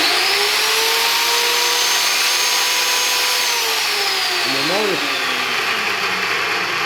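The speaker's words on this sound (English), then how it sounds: "So I'm just going to run the drill for a minute." Vevor magnetic-base drill motor running steadily at high speed, a loud continuous whine with a broad hiss, a brief pitch wobble near the end, no talking.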